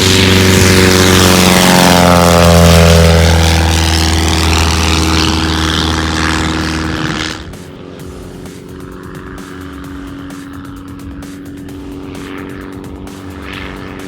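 A small propeller plane roars close by while landing on a hillside strip at a fly-in event in Brasstown, North Carolina, its engine note shifting as it passes before settling into a quieter, steady idle.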